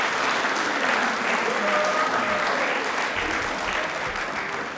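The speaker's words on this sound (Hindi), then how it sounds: "बट एक बार तालियां हो जाए" Sustained applause from a studio audience on a Rajasthani TV quiz program, steady and full throughout with a faint tonal hum beneath, easing slightly toward the end.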